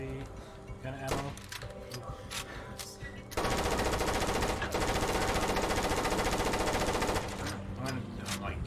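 Rapid heavy gunfire from a large weapon in Far Cry Instincts, a sustained loud burst of automatic shots over game music, with lighter intermittent shots before and after.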